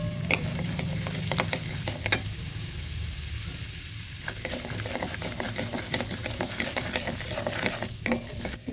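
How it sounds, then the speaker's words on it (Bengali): Chana dal and urad dal fry in oil with a dried red chilli in a pan for South Indian lemon rice. The sizzle is close and continuous, with repeated scraping stirs and no talking. "এবার দিয়ে দেব বুটের ডাল আর বিউলিটা, হালকা আছে ভেজে নেব।"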